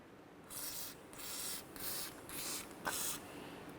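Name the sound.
spraying penetrant onto a brake rotor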